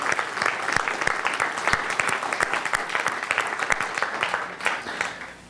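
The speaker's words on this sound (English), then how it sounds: "could we just give them a round of applause?" Audience applause fills a church service, a steady dense patter of many hands clapping at an even level throughout without any talking over it.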